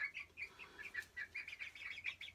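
About 17 egg-laying chickens in a coop inside an overhauled barn give repeated short chirps and clucks in a steady, busy rhythm, fairly faint and close.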